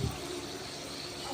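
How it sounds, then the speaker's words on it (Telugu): Hot tempering of garlic and asafoetida is poured into boiling toor dal with tomato, a faint brief liquid sizzle and splash heard close, with no talk. "మొత్తం వేసేసి ఇంకా పప్పులోకి పోసు వేసేస్తున్నాను"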